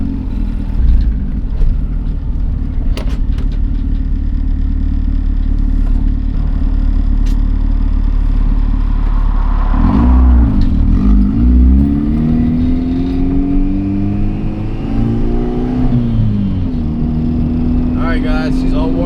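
A street-tuned Acura Integra engine drones loudly while driving, then climbs through rising revs with boost building, close and dominant throughout.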